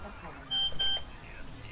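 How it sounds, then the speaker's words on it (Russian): A short electronic tone from a phone receiving an SMS text message, a steady high beep lasting about half a second, heard over faint background game noise and voices. "Что за звук? Я все слышу, я слышу, как пришла смс"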